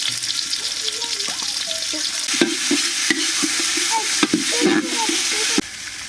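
Onion, garlic, ginger, cumin paste and spices fry in a pan, with a steady loud sizzle broken by repeated scraping stirs. A faint voice can be heard under the cooking.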